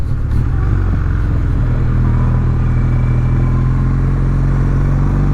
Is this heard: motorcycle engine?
yes